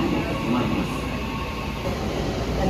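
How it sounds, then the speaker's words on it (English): An express train bound for Central Japan International Airport sits at a station platform, giving off a steady, close, broadband rumble with a low mechanical hum that stays even throughout and has no voices over it. "The train at platform 4 is bound for Central Japan International Airport."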